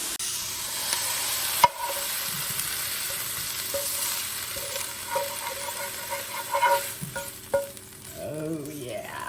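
Charred chicken tikka sizzles loudly in a hot oiled pan, a steady frying hiss with scraping and stirring as the pieces are moved out to a dish, close and continuous with no voices.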